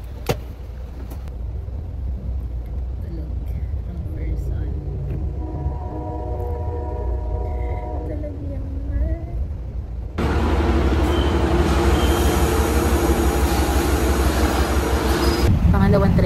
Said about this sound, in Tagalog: Nakaboard na kami sa train.